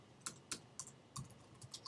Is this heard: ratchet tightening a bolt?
no